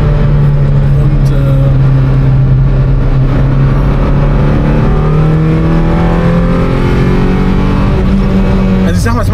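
A Fiat Panda 200 race car engine revs loudly and continuously, its tone rising and falling through the revs, with a person talking over it.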